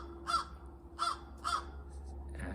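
Ravens cawing outside, three evenly spaced harsh caws, fairly faint and distant against a quiet background hum.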